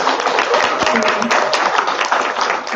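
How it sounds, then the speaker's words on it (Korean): An audience at a seminar applauds steadily, dense loud clapping filling the whole stretch. "박수 한번 부탁드리겠습니다"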